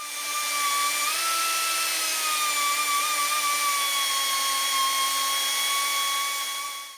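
A high-pitched power tool whines steadily for several seconds, its tone dipping slightly as it bites into the metal of a carrier bearing on a Jeep Cherokee XJ Dana 30 axle.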